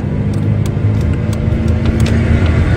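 A car's engine drones steadily and fairly loudly as it accelerates in second gear, a smooth continuous rumble with no talking.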